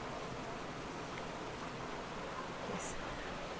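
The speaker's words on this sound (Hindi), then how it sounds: "आज बहुत ही अल्टीमेट बारिश है, पता है क्या, कंटिन्यूस चालू है शाम के 5 बजे से" Heavy, continuous evening rain pours down as a steady, dense, even hiss with no pauses or voices.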